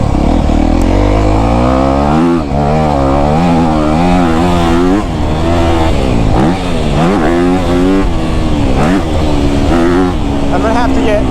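A 2024 Honda CRF250R dirt bike engine revs and shifts during a ride, loud and close, with the pitch repeatedly climbing and dropping through the gears for the whole stretch.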